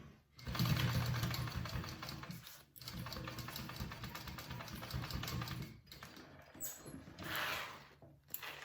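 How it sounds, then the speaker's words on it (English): A sewing machine stitches through a zipper on a bowler bag in bursts, a close, rapid mechanical whirr that runs for a few seconds, pauses briefly, then resumes in shorter runs. "I'm just sewing through the zipper this time."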